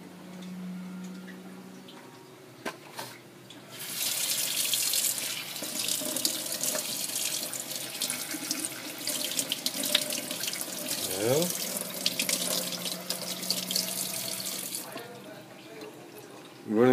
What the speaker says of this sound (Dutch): De kraan.